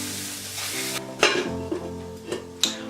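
Cauliflower meat for vegan street tacos softens in oil in a pan on residual heat, with a soft, fading sizzle broken by a few sharp utensil clinks and scrapes.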